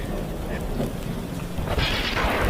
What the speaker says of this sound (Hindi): बिजली जोर जोर से कड़कने लगती है